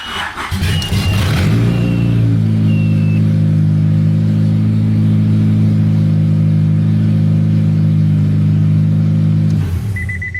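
A Honda B20 engine fitted with a swapped-in Integra distributor idles steadily and loudly for several seconds, a deep continuous hum with a smooth, even rumble, before cutting off near the end.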